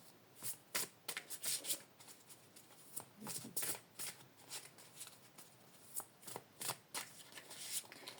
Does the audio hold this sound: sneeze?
no